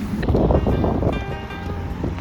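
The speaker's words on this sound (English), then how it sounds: "It's pretty windy." Steady gusty wind roaring across the microphone, a dense low rumble that stays loud throughout with slight rises and falls.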